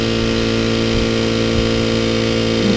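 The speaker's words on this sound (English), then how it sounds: "The tool Dr. White is using is powered by an air compressor" A dental float tool driven by an air compressor works on a horse's teeth, giving a steady, loud mechanical drone with a constant low hum and faint rhythmic pulses throughout, no voices present.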